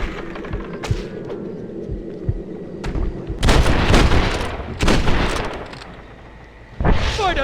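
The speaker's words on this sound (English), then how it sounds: "they're shooting at us!" Gunfire in the Western video game Red Dead Redemption, set in New Austin: heavy bursts of shots and booms over a low rumbling game backdrop, with sharp isolated cracks early on and dense volleys through the middle.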